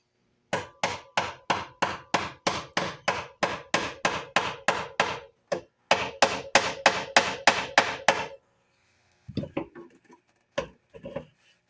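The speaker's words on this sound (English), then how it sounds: "here I'm re-riveting the front latch that was missing" Aluminum 1/8 brazier rivets being hammered into the front latch of an old outboard boat motor, a rapid regular series of sharp metallic hammer blows. A short pause interrupts it, then more blows follow before a few scattered final taps.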